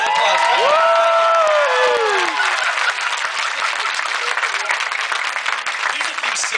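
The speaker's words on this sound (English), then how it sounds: "Big round of applause" Wedding guests at a reception break into loud, sustained applause and cheering, with whoops and shouts rising over dense clapping from a large crowd.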